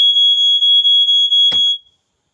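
Smoke alarm sounding in a kitchen, a loud piercing high beep that pulses on and off in quick bursts, ending with a brief clatter before falling silent.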